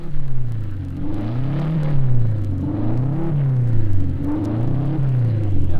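A 1,500 cc racing car engine at Sebring in 1956 revs up and down repeatedly while mechanics adjust the carburetion, a rising and falling drone, loud and close, with a steady rumbling throb underneath.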